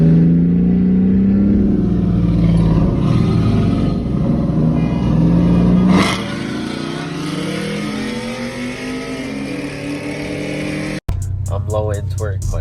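A car with a 4.3 V6 engine accelerates hard, loud and close, its revs climbing steadily through the gears with brief shifts, then dropping off before a sharp cut and renewed engine noise.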